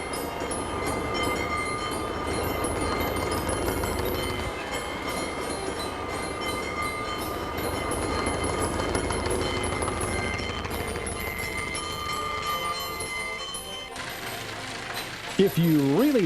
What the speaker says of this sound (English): A future engineer could ride the train.